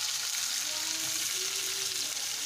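Tomato hits hot oil with cumin seeds and sizzles in a steady, even hiss at close range, with no talking.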